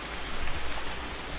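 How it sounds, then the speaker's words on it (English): Rain in the farming game Farming Simulator 19 hisses as a steady, broadband wash, uniform and close, with no talking over it. "So it's supposed to just rain for a little while."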